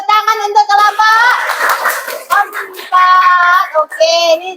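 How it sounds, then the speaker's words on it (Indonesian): Classroom applause for group 4, with hands clapping close and loud alongside lively children's voices chanting and calling out together. "Tepuk tangan untuk kelompok"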